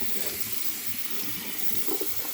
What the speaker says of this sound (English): So we're going to start like this, rinsing this stuff because you never know.